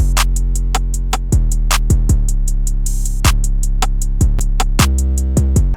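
Deep 808 bass notes play in key, sliding and booming beneath a plucky melody and crisp hi-hats, looping in a steady trap rhythm.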